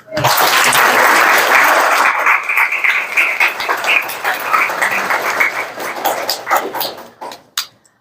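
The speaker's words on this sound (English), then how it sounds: "One round of applause." A dense burst of applause from a crowd, loud at first and then thinning out into scattered claps over several seconds.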